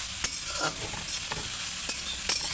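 Leafy greens are stirred into onions frying in a pan, giving a continuous bright sizzle with several distinct scraping strokes from the spatula over a short stretch. No one speaks.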